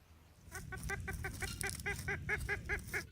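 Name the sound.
chicken clucking, oldest living chicken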